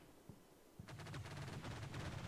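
Rapid 20 millimeter cannon fire in the war game Combat Mission: Shock Force 2, a fast rattling burst of repeated shots after a couple of single thumps, steady and moderately loud with no talk.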